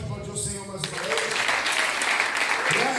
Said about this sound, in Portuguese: Você pode aplaudir o Senhor mais uma vez.